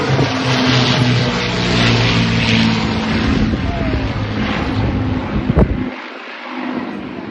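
Lancaster and Boeing B-17 bombers fly past with propeller engines droning steadily and loudly, mixed with wind rumble; the roar fades sharply near the end, and a voice narrates over much of it.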